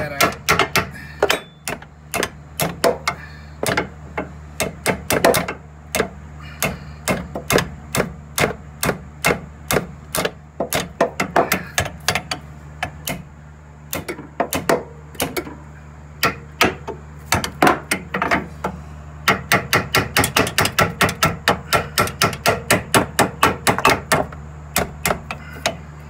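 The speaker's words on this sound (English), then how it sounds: "so I'm gonna have to try to hammer that out" Repeated sharp metal hammer strikes on a sway bar link of a 2008 Chevy Cobalt, some in quick bursts and others spaced out, ringing close by over a low background hum.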